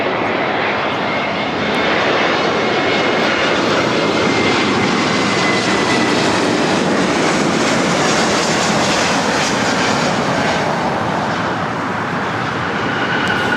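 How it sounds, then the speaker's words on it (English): A Delta Airlines Airbus A321neo jet arriving at LAX on a flight from Atlanta gives a loud, steady engine roar throughout, with no one speaking. "This is Delta Airlines 687 coming in from Atlanta on an A321neo."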